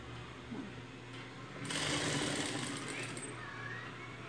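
A sewing machine stitches fabric and a strap together along the very edge, a steady close mechanical whir that swells louder midway and keeps running evenly to the end.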